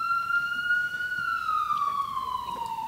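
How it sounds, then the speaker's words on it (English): A wailing siren, steady and fairly loud, sweeping slowly in pitch against a low rumble of background noise, with no talking. "It's an ambulance."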